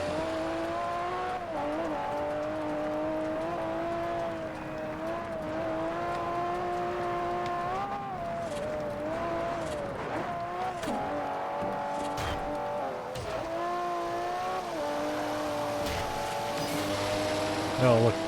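Race cars in the original Forza Horizon roar steadily through a race, engines droning and shifting pitch with occasional tire noise, as someone talks over them.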